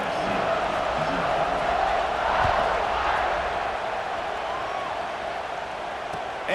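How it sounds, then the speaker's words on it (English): A packed stadium crowd roars at a USC versus Notre Dame football game, a dense, steady wall of cheering noise with no break throughout. "This place is roaring"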